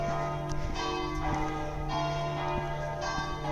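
Church bells ringing in the streets of Metz, steady sustained peals with regular strikes repeating about every second over a continuous humming ring, moderately loud, with no talk.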